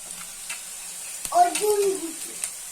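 Chopped garlic hits hot oil for a dhaba-style tadka, giving a sudden burst of sizzling and frying with a stirring scrape, close and fairly loud after a quiet start.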